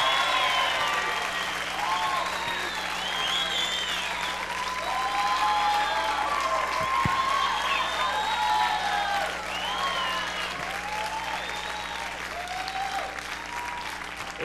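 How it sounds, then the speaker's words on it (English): An audience applauds dancers, sustained dense clapping from a crowd filling the whole stretch at an even, lively level. "Ladies and gentlemen, a round of applause for Julie and Ollie."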